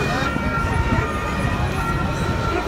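A police siren wails amid dense traffic noise and street bustle in Rome, with voices talking over it.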